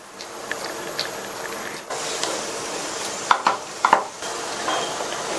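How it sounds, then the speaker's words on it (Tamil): A spoon stirs thick rice flour dough for kara kozhukattai in a pan, giving soft scraping and a few sharp clicks of metal against the pan over a quiet background hiss, with no talk. "கைவிடாம இந்த மாதிரி கிண்டி கொடுத்து மாவு முன்னாடியை விட இப்ப லைட்டா திக்காய் வந்திருக்கு."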